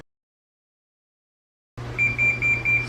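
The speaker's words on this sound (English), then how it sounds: "Oh, the timer's about to go off for the casserole." A kitchen timer sounds for a casserole baking in the oven, giving a steady run of repeated electronic beeps after silence, over a low appliance hum.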